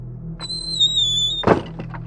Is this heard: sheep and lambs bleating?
no